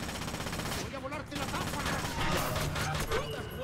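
Heavy gunfire from the stealth video game Splinter Cell Conviction, with rapid continuous shots crackling steadily throughout and someone speaking Spanish over it.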